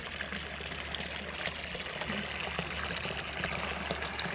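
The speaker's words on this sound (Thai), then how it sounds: "เป็นน้ำไหล" Steady flowing water pours and splashes continuously, a dense even rush with no voices.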